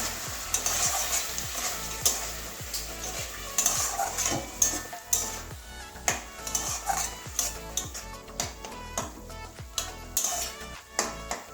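Potato and poppy seed curry with onion greens sizzles in a pan after water is added, a busy crackling fry with frequent sharp ticks of a spoon stirring against the pan, close and moderately quiet.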